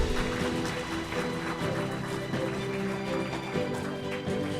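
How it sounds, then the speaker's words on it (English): Steady applause fills a convocation ceremony at St Joseph's Institute of Management, a dense wash of many hands clapping at moderate distance without a break, with no voices on top. "Please applaud, guys."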